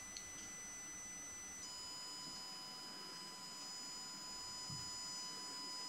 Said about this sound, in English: What you're hearing is a frequency of 1 kHz that comes directly from the coil that is oscillating.